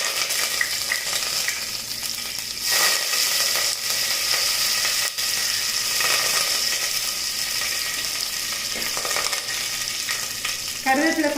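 Curry leaves crackling and sizzling in hot oil for a Tamil-style chicken curry, a steady, close frying hiss with sharp pops and a brief stir near the end, no talking.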